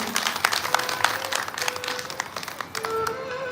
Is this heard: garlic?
no